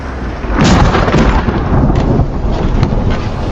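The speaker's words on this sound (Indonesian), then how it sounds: "tepat saat suara guntur tiba" Loud, sustained thunder rumble in a storm, swelling after a brief quiet start and rolling steadily to the end, with a broad crackling texture; no voices.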